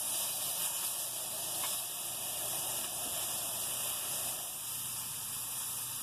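Wagyu New York strip steak sizzling in a hot pan after being flipped, a steady close hiss and crackle that holds at an even loudness throughout with no talking.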